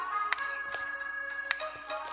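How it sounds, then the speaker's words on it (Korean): Short electronic dings chime in a pizza shop cooking video game, two bright tones standing out over a steady soft background hum, with no talking. "아마 저기도 곧 띵 소리 들릴 거예요"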